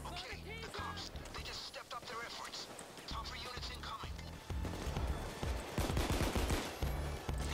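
Gunfire in the video game Payday, with a pistol among the weapons: rapid bursts and repeated loud shots through busy game noise, while people talk over the action.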